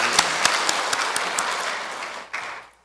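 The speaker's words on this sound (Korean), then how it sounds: "그러면 우리 주님께 박수 주십시오" A church congregation applauding during a Christmas service, a burst of scattered clapping that thickens, then fades and cuts off near the end.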